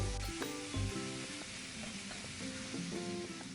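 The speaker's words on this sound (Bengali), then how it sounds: "পটলগুলো দিয়ে বেশ কিছুক্ষণ সময় ধরে আস্তে আস্তে কষিয়ে নেব" Pointed gourd pieces fry with yogurt in a pan over low flame, a steady close sizzle with occasional clinks and stirring scrapes throughout.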